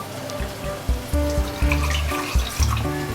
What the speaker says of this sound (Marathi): हे भांडं धुवून मी आता पाणी टाकणार आहे.